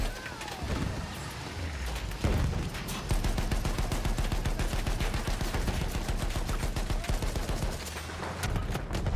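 Battlefield 1 combat with sustained rapid gunfire and blasts, including a heavy cannon shot, loud and continuous throughout, with a player's voice talking over the action.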